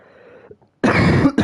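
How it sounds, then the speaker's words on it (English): A loud, harsh cough close to the mic, two rough bursts after a brief quiet moment. "I was holding that cough in for half the cutscene."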